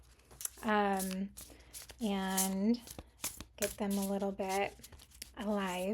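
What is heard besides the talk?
shuffling oracle cards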